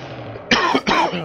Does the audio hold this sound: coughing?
yes